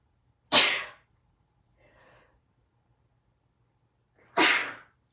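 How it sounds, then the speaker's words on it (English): Two sharp sneezes several seconds apart, close and loud, with a soft breathy sound between them. "I'm getting ready to sneeze, guys."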